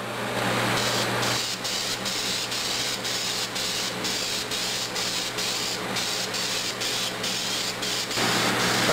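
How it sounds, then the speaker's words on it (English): An airbrush sprays primer onto a 1/35 scale Dragon German Maus tank model kit, a steady close hiss running nearly the whole time, with brief pauses and a low hum underneath. "So the first step I'm doing right now is to spray the first coat,"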